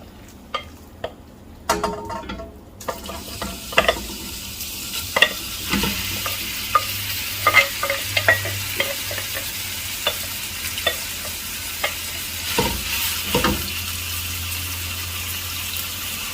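Chicken stir-fries over high heat in a wok with two tablespoons of hot oil, a steady sizzle punctuated by repeated sharp clanks and scrapes of the utensil against the pan.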